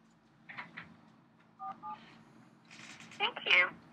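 Telephone keypad tones from a code being entered on a Google phone service, several short beeps in separate clusters with a recorded voice prompt speaking between them.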